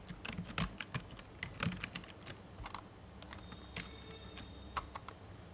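Keys clatter on a computer keyboard as text is entered into a resume in the Overleaf LaTeX editor, with quick uneven bursts of close, fairly quiet keystrokes and short pauses between words.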